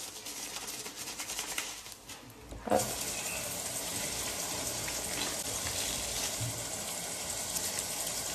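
Tap water runs steadily as cotton fabric is rinsed by hand, a continuous broadband gush with a brief splash near three seconds, close and fairly loud with no voices.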